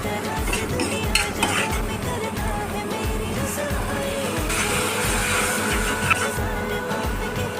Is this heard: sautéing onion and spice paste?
yes